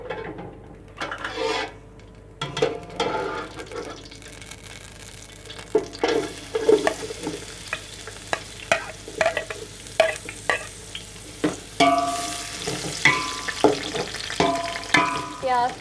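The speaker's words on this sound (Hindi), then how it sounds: "ऑयल गर्म होगा तो मैं इसमें अब प्याज ब्राउन करूँगी।" Onions browning in hot oil for beef haleem, a steady sizzle with repeated scraping and stirring strokes of a spoon against the pan, close and clear, with no talking.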